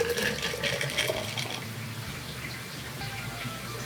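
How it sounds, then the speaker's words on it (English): Liquid pouring from a mixing tin into a vintage Kahiki Headhunter tiki mug, a steady close splashing trickle that thins out toward the end, with no talking. "And pour into a vintage Kahiki Headhunter mug."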